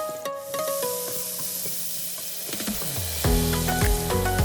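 Shrimp fry in a pan with salt and black pepper, a continuous close sizzle broken by scraping stirs that grow busier and louder near the end, with no voices.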